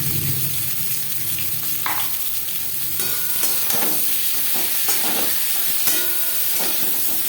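Onions fry in oil in a wok with a steady loud sizzle and hiss, punctuated by occasional stirring scrapes, with no voices present.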